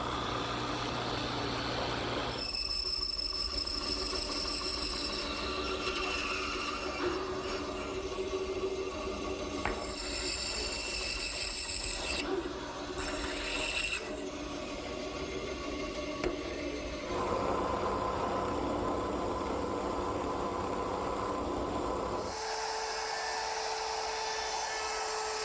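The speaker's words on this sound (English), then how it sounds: "I'm now drilling holes for the dowels." A steady power drill with a 7/8 inch bit whirs continuously for about twenty-five seconds, its motor pitch shifting slightly as it bores dowel holes into wood, with no talking.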